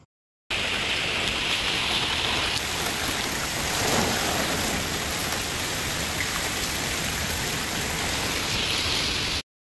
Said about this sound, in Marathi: असा जोरदार पाऊस झालेला आहे दिवाळी पाडव्याच्या दिवशी दुपारी 4 ते 5 वाजेमध्ये